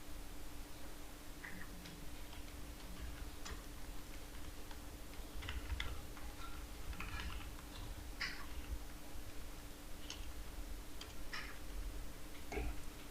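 Light typing on a computer keyboard while text is entered in Affinity Publisher, soft scattered key clicks in irregular bursts over a steady low hum, fairly quiet and close.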